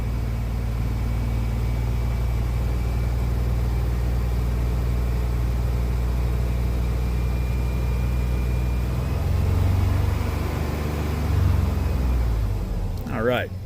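A Chevrolet Astro van engine runs at a steady raised idle around 2,000 RPM, a continuous low drone close by, easing down near the end with a brief rattle.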